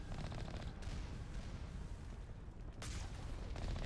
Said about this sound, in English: the rockets are breaking my shields